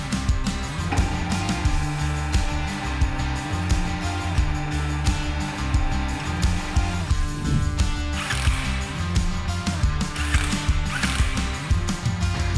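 A ratchet working on a car's road wheel during CV boot repair, giving a steady, close, continuous clicking and mechanical whirring throughout with no talking.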